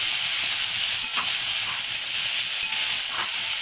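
Cauliflower and potato frying in a pan over a wood-fired clay chulha, a steady, close, even sizzling hiss with light stirring and no talk.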